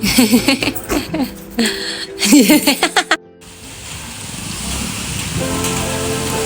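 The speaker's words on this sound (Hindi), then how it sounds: "यहाँ पे अचानक से ही मौसम चेंज हो गया है, इतनी तेज बारिश होने लगी है" Heavy rain suddenly pouring down outdoors, a steady broadband hiss that takes over after a stretch of talk and clattering, holding loud and even to the end.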